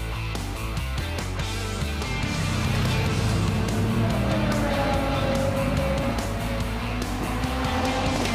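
Nissan GT-R Nismo GT3 race car at Donington Park, its engine roaring loud and steady throughout, with a continuous dense drone and shifting tone as it accelerates close by.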